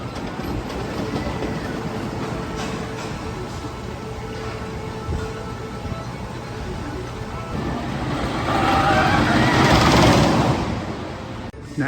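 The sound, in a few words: roller coaster train running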